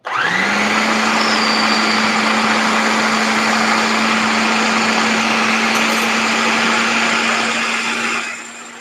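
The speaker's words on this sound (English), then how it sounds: "I'm just going to put my lid on my processor, click that into place, and then we give her a go." A stiff new food processor blends granola ingredients, its motor spinning up sharply and then droning loudly and steadily for about eight seconds before winding down at the end, with no voices.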